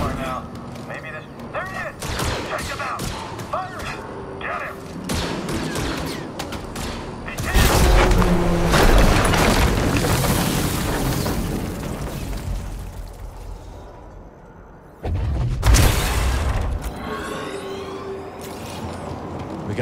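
Blaster gunfire and explosions from Star Wars Jedi: Survivor, with bursts of rapid shots, heavy booming blasts and rumbling debris, loud and close, while voices shout over the combat.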